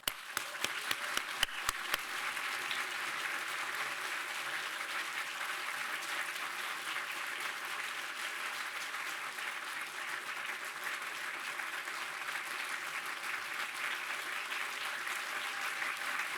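An audience at a film screening welcomes speaker Todd Haynes with sustained applause, opening with a few sharp individual claps before a steady, even wash of clapping from the crowd carries on throughout.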